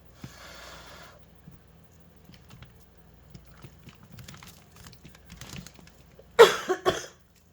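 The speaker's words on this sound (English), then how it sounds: "Sorry, blowing makes me cough." A person coughs several times in quick succession near the microphone, loud bursts after a long quiet stretch of faint handling noises, while pouring acrylic fluid art with gold cell activator.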